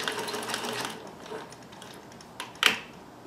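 A Necchi Supernova Ultra freearm sewing machine sews a straight stitch: a faint, steady, fast mechanical whir that eases off, followed by a couple of sharp clicks.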